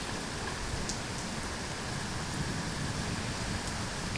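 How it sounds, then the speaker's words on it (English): Steady summer rain falling outdoors, a dense continuous hiss of drops on surfaces with a few brief brighter patters, even and close throughout with no voices. "it keeps raining."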